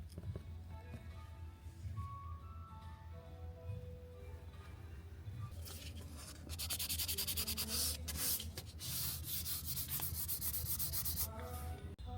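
Body filler on a first-generation R50 Mini Cooper panel is sanded by hand, with quiet faint rubbing at first and then rapid, loud, close abrasive strokes that continue to the end.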